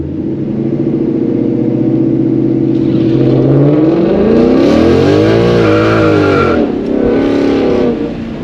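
A Ford Mustang with a 10-speed automatic accelerating hard on street tires along a street, its loud engine note climbing and shifting through gears with a sweeping rise in pitch and faint tire noise, close and continuous.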